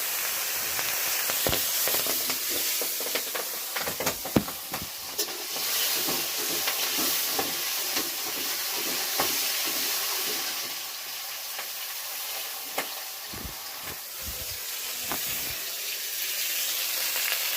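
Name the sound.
vegetables and paneer sizzling in a pan as ingredients are added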